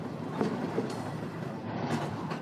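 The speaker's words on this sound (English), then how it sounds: "A network of Mexican cargo trains whose extra load are all chasing an American dream." A Mexican cargo train rolls along its rails, a steady rumbling rush with faint rhythmic clatter throughout, no voices over it.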